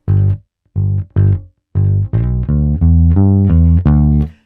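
Electric bass plays two beats of a blues ground bass line followed by a two-beat major pentatonic fill, a dozen or so plucked notes in steady rhythm, loud and close with no speech.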